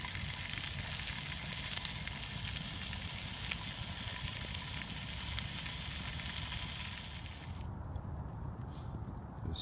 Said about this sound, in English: That's what's burning in that pan.